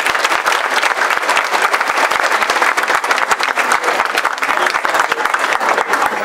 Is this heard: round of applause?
yes